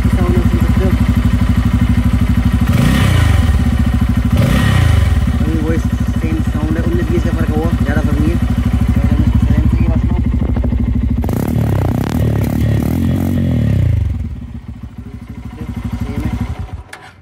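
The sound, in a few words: Bajaj Pulsar N250 motorcycle engine running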